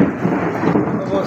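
Thunder rumbles through a heavy morning rainstorm in Odisha, a brief, dense roll of low rumble over the hiss of rain.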